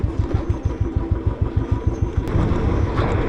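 A Bullet motorcycle rides along a newly surfaced road, its single-cylinder engine thumping in a fast, even beat close up, then smoothing into a steadier roar as it picks up speed.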